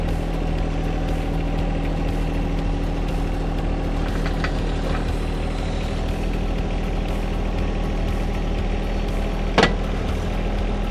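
A John Deere 1 Series compact tractor engine runs at a steady idle, a constant low hum and drone with a faint click near the end.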